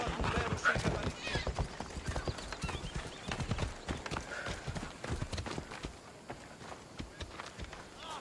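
Rapid, rhythmic hoofbeats of a galloping horse in the video game Assassin's Creed Odyssey, close and clear, with a short whinny and a voice talking briefly in German over it.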